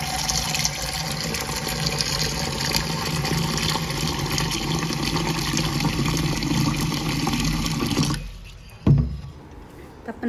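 Water runs steadily into a burnt milk pan, a full continuous rush for about eight seconds before it cuts off, followed by a brief clunk of the pan.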